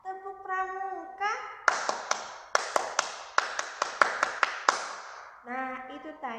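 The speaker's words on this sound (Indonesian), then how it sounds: "itu tadi tepukan Pramuka" Pramuka scout clapping, a rhythmic pattern of about a dozen crisp hand claps in a set beat, with a child or teacher's voice speaking before and after it.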